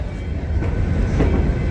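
Three Rivers Rambler excursion train rolling along the tracks, a steady close rumble with faint clicking from the rails, continuous for under two seconds with no voices.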